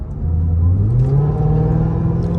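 A Dodge Hellcat drives through noon traffic, its engine rumbling as the supercharger whine rises in pitch, close and loud, with no voices.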